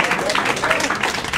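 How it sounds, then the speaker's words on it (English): Short burst of clapping from a fitness class group, fairly loud and close, lasting only a moment. "give yourselves a round of applause"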